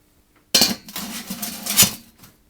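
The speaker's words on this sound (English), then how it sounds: "now all we need is the lid" A metal lid set down onto a cooking pot of beef outdoors, a sharp clattering clank followed by a few rattling knocks as it settles, close and fairly loud with no talking.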